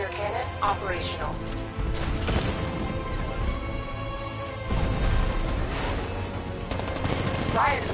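Gunfire and cannon blasts from a 60mm tank cannon in The Batman game ring out in rapid bursts, loud and continuous, layered with mechanical clatter and voices talking over the action.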